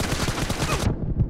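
Gunfire in PUBG Mobile team deathmatch, a rapid burst of close, loud automatic shots that cuts off abruptly, followed by a faint thump.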